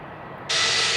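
Jet airliner taking off at Glasgow Airport, a low rumble that abruptly turns to a loud broadband roar halfway through and stays strong to the end.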